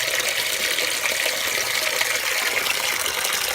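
A bathtub faucet running into a tub with a clogged drain, a steady close rush of gushing water that holds at an even level from start to finish, no voices.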